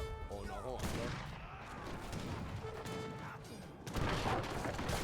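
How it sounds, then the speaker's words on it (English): Bombard cannon shots in the video game Age of Empires III, sharp booming blasts amid layered battle clatter, tonal game effects and a loud impact burst near the end, with nearby sound cues but no clear speech. "look, one little bombard shot decimates a light cannon in one single hit."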